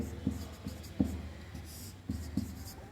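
Chalk or marker taps and scratches against a classroom board in a few short, irregular strokes, close by and moderately loud, with a faint voice in the background.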